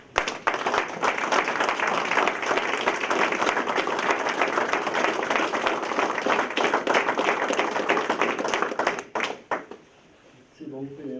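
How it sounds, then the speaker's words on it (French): Sustained, steady clapping from an audience honouring firefighters at a Sainte Barbe ceremony in Sévérac d'Aveyron, lasting about nine seconds before breaking into a few scattered claps and fading to quiet murmuring. "On peut tous les applaudir."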